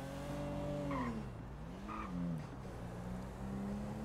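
A car drives in the GTA 5 video game, its engine droning steadily with rising and falling pitch as it shifts and turns, plus brief tire chirps, continuous and fairly loud with no talking.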